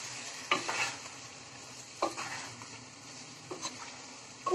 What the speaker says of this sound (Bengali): হাঁসের মাংসটা খুব ভালোভাবে প্রপারলি কষাতে হবে